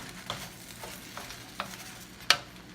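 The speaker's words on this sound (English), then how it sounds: "Let me stir it up quick" Shrimp and crab fried rice is stirred in a pan with a few sparse spatula scrapes, the last one sharpest, over a steady low sizzle of frying.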